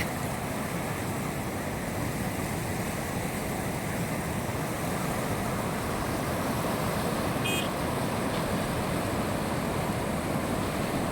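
Floodwater rushing over a bridge makes a loud, continuous roar of churning water, steady and broadband with no break, heard up close.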